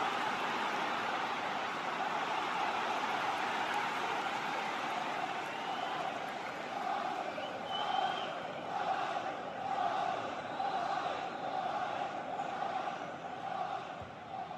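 Football stadium crowd during an Arsenal corner kick against Manchester United, a steady distant roar of many voices with rising chants, fairly faint and continuous, no clear talk.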